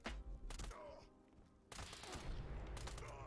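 A 10mm pistol hip-fired in Fallout 76 gives sharp, loud shots: a quick burst at the start, a pause, then a denser run of fire near the end. A voice is heard briefly.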